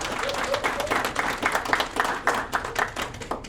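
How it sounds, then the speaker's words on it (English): An audience at an evening speaker series panel on craft beer entrepreneurs, sponsored by DD Audio, claps steadily, a dense patter of many hands at moderate loudness with a few voices mixed in. "So let's give a round of applause."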